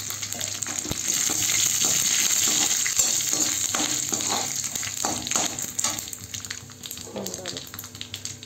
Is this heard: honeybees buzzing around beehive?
no